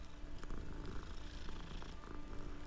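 A cat purring in the video game Hogwarts Legacy, a soft, steady, close rumble that runs alone for a few seconds.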